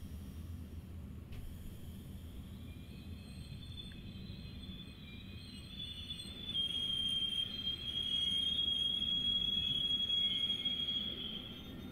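Trains passing in the video game Train Simulator 2016 on an Austrian route, a continuous low rolling rumble with a thin high-pitched wheel squeal that grows louder in the second half, with no voices.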